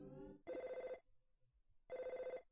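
Two bursts of a chiptune-style telephone ring from the video game Earthbound, each roughly half a second long with a short gap between, loud and clear, with brief game music at the start.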